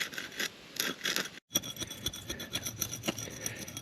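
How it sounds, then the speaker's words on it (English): Foam trimmed at the pier of a concrete retaining wall form, a rough rasping, sawing scrape in repeated strokes, close by, broken by a brief silence partway through. "I think the hardest part is going to be trimming this foam at the pier"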